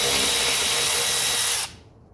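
A power tool spins out a 10 millimeter bolt from the air filter housing lid of a 1982 Mercedes 300SD, a brief loud whirring buzz that stops abruptly after about a second and a half.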